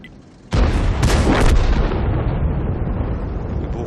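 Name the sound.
explosions in the video game World of Tanks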